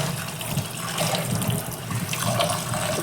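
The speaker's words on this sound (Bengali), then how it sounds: "এটাকে আমি আগে ভালো করে ওয়াশ করে নেব" Lote saag greens being washed under a running tap in a kitchen sink, with steady splashing water and the rustle of handled leaves, fairly close and continuous with no talk.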